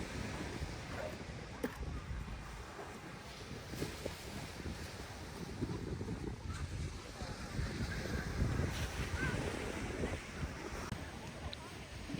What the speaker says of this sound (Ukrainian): Послухати звук хвиль.